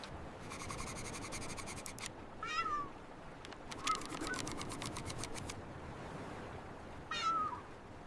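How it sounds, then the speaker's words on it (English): A cat on a yacht, busy with a piece of fish, gives a few short meows over a steady background hiss, with soft scratchy sounds between them. "look at the cat with its fish"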